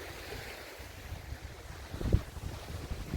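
Soft ocean surf and wind on the Italian coast, a low, faint wash with gentle gusts buffeting the microphone and one brief thump partway through; distant and fairly quiet, with no voices.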